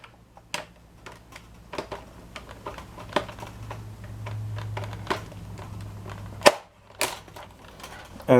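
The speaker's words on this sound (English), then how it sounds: "let's go ahead and attach the Chrono Barrel." Sharp plastic clicks and snaps sound as a Chrono Barrel is fitted onto a Nerf Mandalorian blaster, irregular close taps over a low background hum, ending in a louder snap and a final click.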